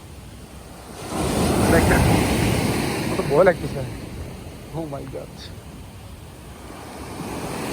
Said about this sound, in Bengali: সত্যি অসাধারণ ঢেউগুলো